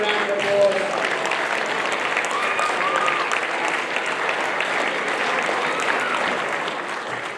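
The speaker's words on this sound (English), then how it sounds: "can we give all our wonderful 50 kids a big round of applause?" A crowd claps steadily at a junior and youth football club awards presentation, a dense sustained round of applause that holds at the same level throughout.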